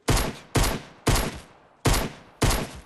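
Five loud, sharp Fortnite gunshots ring out at a steady pace about half a second apart, each with a short decaying tail, with no talking.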